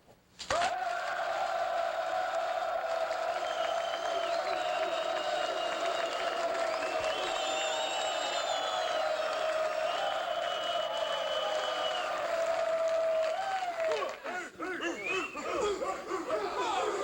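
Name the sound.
crowd applauding and cheering at graduation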